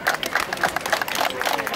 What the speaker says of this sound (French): Allez, une salve d'applaudissements pour Mamie.